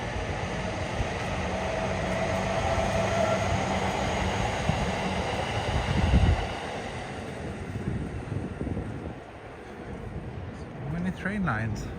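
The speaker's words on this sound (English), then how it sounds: "Train lines. That's one of the Seibu lines that goes to the western parts of Saitama" Seibu line train in Tokyo rumbles past along the tracks, a long steady rolling roar with wind buffeting the microphone, easing off toward the end as a voice talks briefly.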